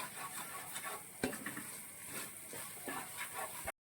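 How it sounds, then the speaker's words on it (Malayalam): Roasted grated coconut being stirred slowly in a pan for caramelised coconut ladoo, a soft continuous scraping and rustle with faint sizzle and one sharper knock, steady and close, no talk. "ഇത് ചേർത്ത് നന്നായിട്ട് ഇളക്കി യോജിപ്പിക്കണം നല്ല പതുക്കെ ഇളക്കണം"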